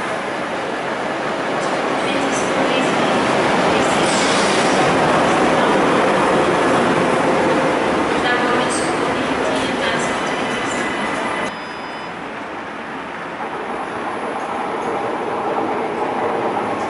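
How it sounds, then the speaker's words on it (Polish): A train moves through a Belgian railway station, a steady loud rumble of wheels and carriages with clattering and faint squeal, continuous throughout with a slight drop in level near the end. "wygląda pociąg oznaczony literką P."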